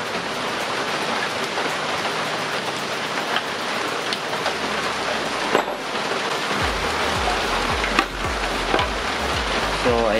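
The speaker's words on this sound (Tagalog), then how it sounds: "umuulan kaya maingay" Steady rain pattering hard on surfaces nearby, a dense hiss with occasional louder drops and thumps, continuous throughout.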